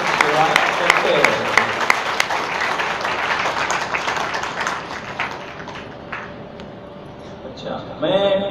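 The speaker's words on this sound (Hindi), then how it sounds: "आप एक बार सबके लिए ताली बजाइए" An audience at a Hindi honour ceremony for devoted householders claps in a burst of scattered applause that fades out, with a voice speaking over it.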